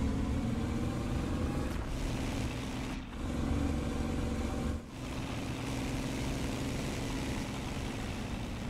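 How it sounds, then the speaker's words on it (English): Engine of the Ariete tank in an armored-combat video game, a steady loud rumbling drone with broadband roar, briefly dipping twice before carrying on without speech. "I love this new engine sound for the Ariete."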